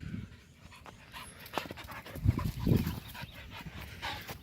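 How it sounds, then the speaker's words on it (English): A dog pants in quick, rhythmic breaths close to the microphone, with a few louder huffs and faint whimpers in the middle. "that's my dog"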